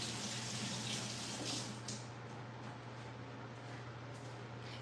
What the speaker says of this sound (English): I'm gonna wash this off.